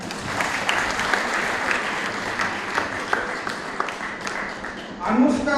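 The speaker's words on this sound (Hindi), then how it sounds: "जोर से तालियां हो जाए।" A crowd at a student honouring ceremony for Men's Day in Rajgangpur breaks into dense, sustained applause that holds steady throughout, with a voice briefly rising at the end.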